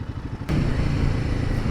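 A Royal Enfield Himalayan 450 engine drones under load, and a short clunk partway through marks a gear change before the steady motor note continues, with wind rushing close around it.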